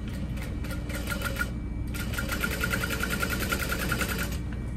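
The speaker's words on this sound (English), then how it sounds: "I'm purposefully sewing through it." Sewing machine stitching through piping along the edge of a fabric crossbody bag, rapid rhythmic needle clatter in short bursts with a brief pause, close and clear, no talk.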